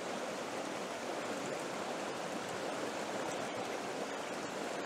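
A river stream rushes over rocks in a steady, close, full wash of water with no pauses or voices.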